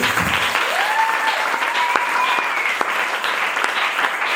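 A church congregation applauding, dense continuous clapping from many hands throughout, with a few raised voices and whoops rising above it.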